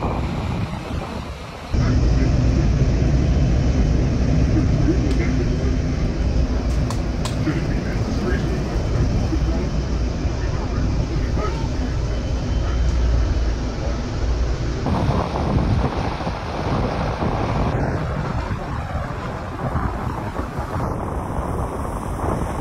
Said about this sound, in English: With the engine start, also the air cushion is created,